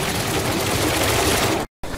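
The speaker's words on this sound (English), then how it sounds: "It has guns in the front, big guns on the top. This is how you shoot this." Vehicle-mounted guns of a futuristic battle tank in the game Trailmakers fire as a loud, dense, continuous burst of rapid shots, cutting off sharply for a moment before resuming.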